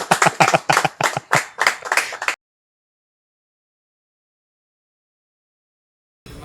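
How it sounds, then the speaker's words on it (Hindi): A quick run of sharp, close hand claps lasts about two seconds before dead silence. "क्रांति सेना के भाई बहन कब ताली बजाएंगे इसका भी मैं इंतजार कर रहा हूं।"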